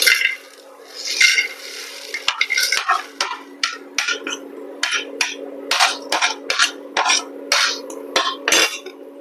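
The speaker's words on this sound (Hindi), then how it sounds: "बराबर चलाते हुए नमी निकलने तक गर्म कर लेते हैं मसालों को" Whole spices, including broken nutmeg pieces, are stirred and dry-roasted in a pan on a low-heat induction stove, giving repeated scraping and rattling strokes against the metal over a steady electrical hum.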